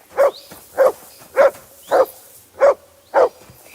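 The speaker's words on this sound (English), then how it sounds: "Good dog, Mutz." Mutz the dog in Kingdom Come: Deliverance 2 lets out six evenly spaced, clear barks, close and loud, against an otherwise quiet background.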